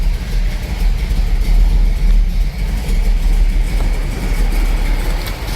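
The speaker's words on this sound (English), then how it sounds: "Beautiful rumble out of 383 Magnum." A 1970 Dodge Challenger R/T with a 383 Magnum V8 idles with a steady, loud low rumble, close by, with no voices over it.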